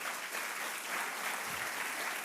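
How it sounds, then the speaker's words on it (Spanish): Steady audience applause at a church sermon, a dense wash of many hands clapping that holds evenly throughout without a break. "Gracias por ese aplauso"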